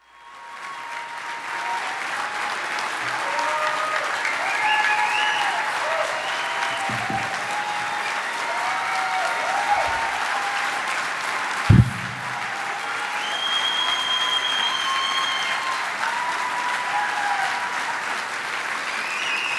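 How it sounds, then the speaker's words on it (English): A large audience at an Emmy awards ceremony applauds steadily and loudly for about twenty seconds, dense sustained clapping with a few whoops and a brief thump partway through. "The sound of your clapping."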